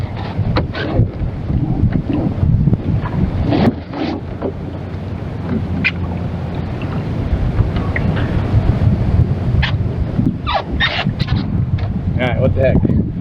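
Wind gusts rushing over the microphone aboard a small sailing dinghy with its jib up, the breeze coming from nearly astern, a steady broad roar with sporadic knocks and rattles of gear and occasional talk.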